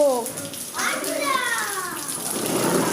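Floodwater from a flooded rooftop pours down indoor stairs, a continuous rushing splash like heavy rain under people talking.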